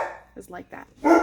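Pet dogs bark indoors in a home craft space, a short close burst of yips and barks following a brief stretch of a person talking.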